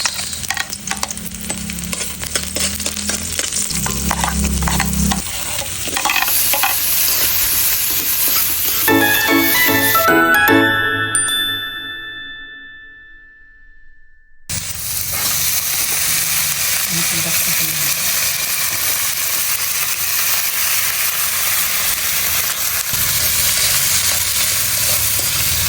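Chopped onion sizzling in a hot pan after garlic for a Filipino home-cooked dish, a loud steady frying hiss with stirring scrapes, broken by a brief quiet gap before the sizzle resumes.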